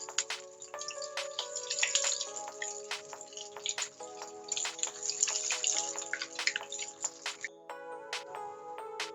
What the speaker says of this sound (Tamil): இப்போ நம்ம ரெடி பண்ணி வச்சிருக்கிற இந்த பிரெட் சிக்கன் பால்ஸை ஃப்ரை பண்ணிடலாம்.